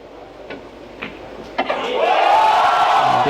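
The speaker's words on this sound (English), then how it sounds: "the crowd cheering" A crowd at the 2025 WPA Men's 10-Ball World Championship pool match, with a few scattered claps that swell into sustained loud cheering in the second half.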